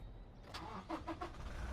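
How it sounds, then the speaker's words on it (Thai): A 2015 Toyota Revo Prerunner 2.4 J Plus diesel pickup with a manual gearbox cranks and starts, giving a few quick pulsing cranks before catching and settling into a low, steady rumble, quiet and heard alone. "เดี๋ยวสตาร์ทเครื่องติดเครื่องให้ฟังเสียงนะ"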